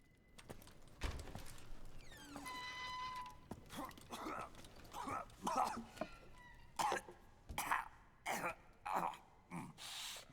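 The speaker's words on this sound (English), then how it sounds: "David Hayter, we need some coughing noises." Repeated harsh coughs from a character in the PS3 game Metal Gear Solid 4: Guns of the Patriots, coming in ragged bursts over a bed of game music and ambience.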